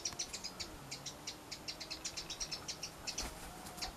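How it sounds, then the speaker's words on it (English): Songbird singing in a garden near Rosa rugosa rose hips, a long run of rapid high chirps and trills, soft and moderately near over a quiet outdoor background, no voices. "Oh, I love the bird song."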